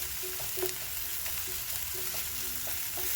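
Ginger and garlic frying in a pan for a fish stew, with a steady close sizzle and faint clinks and scrapes as the mixture is stirred and turned.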